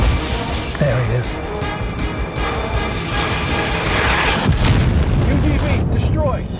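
A loud boom from an explosion destroying an unmanned ground vehicle in a military combat systems demonstration, with rumbling blast noise sustained throughout and voices speaking over it.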